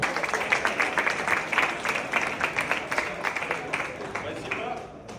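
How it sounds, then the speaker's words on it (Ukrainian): Audience applause welcoming an honorary consul of Ukraine in Spain onto a stage at a business forum in Valencia, steady clapping throughout with voices mixed in underneath. "Давайте зустрічати оплесками наш гість Володимир Носов"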